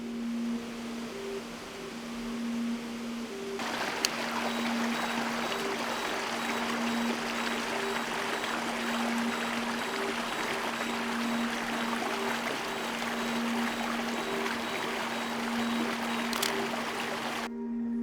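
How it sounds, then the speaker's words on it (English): Water pouring over a waterfall in the Yorkshire Dales, a steady, fairly faint rushing wash that starts abruptly and holds evenly, with a low constant hum running underneath throughout. "the water pouring over the top of the waterfall"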